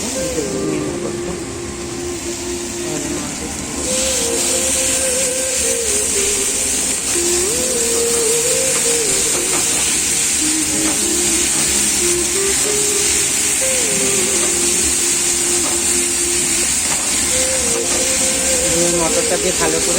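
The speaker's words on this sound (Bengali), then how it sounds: "মশলাটা একটু ভালো করে কষিয়ে নিচ্ছি" Masala spices frying for ghugni in a home kitchen, a steady close hiss and sizzle running continuously throughout, loud and unbroken with faint clatter beneath.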